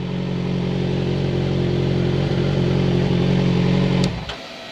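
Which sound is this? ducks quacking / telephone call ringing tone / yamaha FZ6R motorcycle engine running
yamaha FZ6R motorcycle engine running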